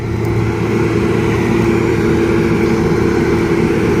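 A combine harvester threshes soybeans in a winter field on frozen ground, its engine and threshing machinery a loud, steady, unbroken droning roar close by.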